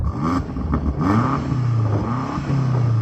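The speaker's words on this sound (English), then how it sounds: "I'm going to start off by revving up this M8" BMW M8 engine revs up with a deep throaty blip and falling pitch, then a second rising rev held briefly before dropping again, loud and close with no voices.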